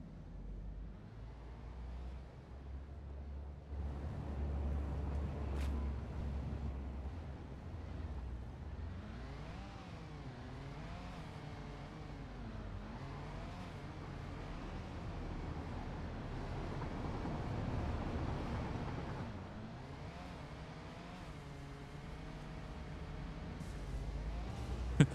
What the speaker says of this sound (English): The new sound of these cars are a lot better.